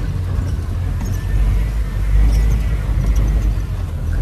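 A Mahindra Thar 4x4 drives over wet, muddy ground with a steady, close, low rumble of engine and tyres that swells slightly midway, and no one talks.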